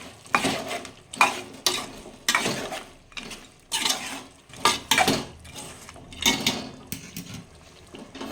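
Spoon scraping and clattering against a cooking pot while village country chicken curry with tomato and chili powder is stirred, in repeated bursts of metallic scrapes and knocks, close and fairly loud, with no talking.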